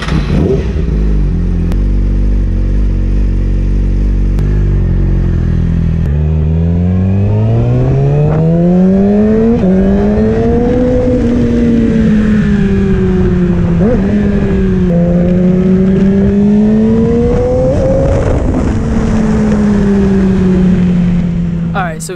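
A 2018 Yamaha R6 sport bike idles, then pulls away and revs up through the gears, its loud, close, high-pitched engine whine rising and dropping with each shift and running steadily throughout.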